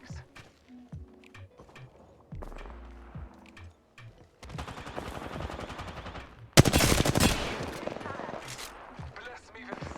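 Automatic gunfire bursts in a team-based shooter video game, rapid crackling volleys with a loud close burst midway, layered with game effects and voice callouts.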